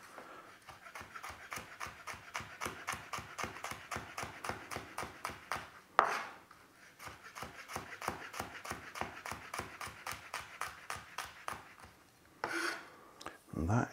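A kitchen knife slices through garlic cloves on a board in quick, even strokes, close and crisp, with a short pause midway before the rhythmic cutting resumes.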